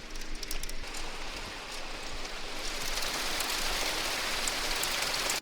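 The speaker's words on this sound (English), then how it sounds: "It's hailing." Hail falling in Naples, Florida, a dense, steady hiss of pelting impacts that fills the whole clip and grows slightly louder toward the end, with no voices.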